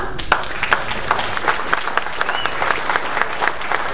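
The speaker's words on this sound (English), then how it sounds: "I don't know why you're clapping for me." A Tea Party crowd applauds a sheriff at a political event, a steady wash of clapping with distinct sharp individual claps standing out, and voices faintly underneath.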